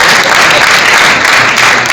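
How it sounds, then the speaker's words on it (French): Audience applause at an awards ceremony, loud and continuous dense clapping filling the whole stretch with no gaps or voices. "Est-ce qu'on peut applaudir bien fort pour Nicolas?"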